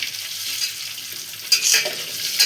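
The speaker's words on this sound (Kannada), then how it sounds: "ಫ್ರೈ ಮಾಡ್ಕೋಬೇಕು ಫ್ರೆಂಡ್ಸ್ ಎಣ್ಣೆಯಲ್ಲಿ." Eggs frying in hot oil in a pan for egg curry, a steady close sizzling hiss with louder crackling bursts near the end. No one speaks.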